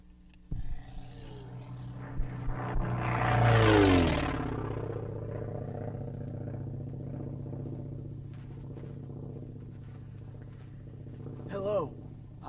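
World War II propeller bomber aircraft passes overhead with a deep droning rumble that swells to a loud peak and then fades into a steady distant hum, with a brief burst of sound near the end.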